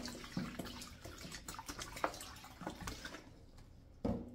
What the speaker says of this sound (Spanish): Voy a poner vinagre blanco.